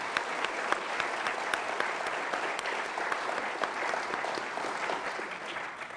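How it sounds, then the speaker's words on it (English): An audience at a policy conference panel on regional orders and warfare applauds steadily and densely for about six seconds, with a close, even wash of many hands and no talk over it. "let's give another round of applause, though, uh, to this astute panel"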